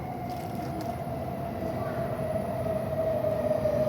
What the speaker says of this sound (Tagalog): Nag-aantay kami ng tren.